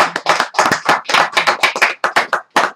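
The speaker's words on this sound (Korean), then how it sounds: "우리 윤봉길 의사를 위해서 우리 박수 한번 칩시다." An audience breaks into applause during a lecture, a dense burst of many hands clapping close by that comes in uneven waves and thins toward the end.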